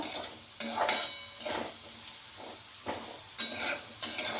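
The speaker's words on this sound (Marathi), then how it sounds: "बटाटा चांगलं भाजून घ्यायचं मऊ होईपर्यंत तेलामध्ये।" Potato pieces frying in oil in a non-stick pan, heard as soft sizzling with several bursts of stirring and scraping at irregular intervals, close and moderately quiet.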